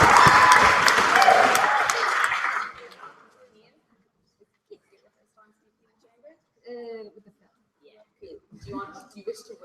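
Debate audience applause fills the hall for about three seconds, then fades out, leaving near silence broken by a few short bursts of speech and small room noises.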